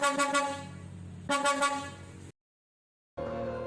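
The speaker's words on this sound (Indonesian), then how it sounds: "Yang terdengar hanyalah suara dari mesin dan klakson bus yang berderu kencang." A bus horn honks loudly in two long sustained blasts, broken by a brief silence, then returns over a steady engine rumble, close and dominant with no voices.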